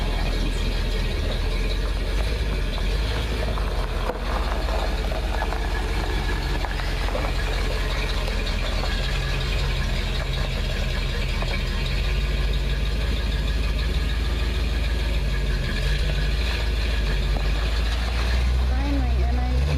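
A 1955 Chevy pickup's engine idles steadily outdoors at sunset, a loud, continuous low rumble holding even throughout, with faint rattling mixed in.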